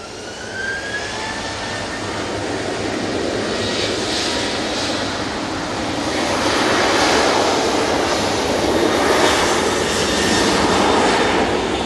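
A TUI aircraft passes by at Manchester Airport with a loud, broad jet engine roar that swells toward the end, a descending whistle heard early on.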